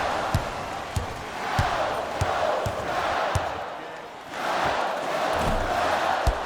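Booing from an arena crowd in an NBA Live 22 basketball game, a broad sustained roar that swells and dips, with sharp ball bounces and sneaker thuds cutting through.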